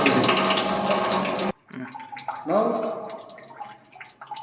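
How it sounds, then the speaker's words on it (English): Excess water spills noisily over a calibration notch in a fluid mechanics lab, a loud rushing flow that cuts off abruptly, followed by quieter trickling beneath a person talking. "the water to be spilled out and come to the crest level"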